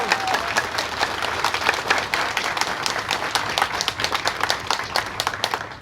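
Dense, sustained audience applause at a press conference, many hands clapping steadily and loudly throughout with a faint voice underneath.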